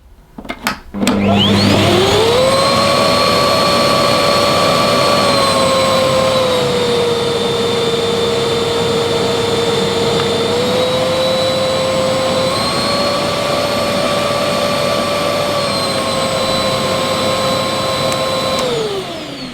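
A Bissell SmartClean Pet vacuum cleaner switches on by foot pedal and runs continuously, a loud steady motor whine with a rising start-up and slight pitch shifts, with no talking.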